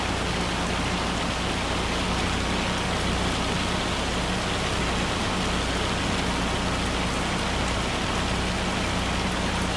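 A hail storm in the Farming Simulator 25 video game: a steady, dense roar of hail and rain pounding surfaces, constant and loud with no pauses and no voices.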